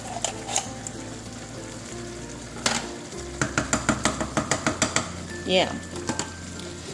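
A spoon scrapes and stirs a sloppy joe mixture in a pan, a steady run of rhythmic knocks against the metal over a soft sizzle, with a voice briefly speaking.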